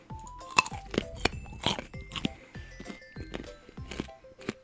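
Close, crisp crunching as a carrot is bitten and chewed, a quick series of sharp bites and grinding chews with short pauses between, alone with no talking.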